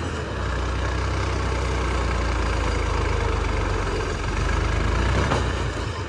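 A tractor engine idling close by, a loud, steady low rumble with a continuous throb and no pauses, alone without voices.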